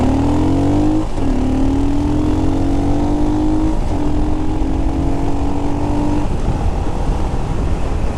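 Royal Enfield Himalayan motorcycle with modified exhaust and air filter, ridden hard on a twisty road, its engine loud and close as revs climb steadily through several gear shifts, with constant wind noise.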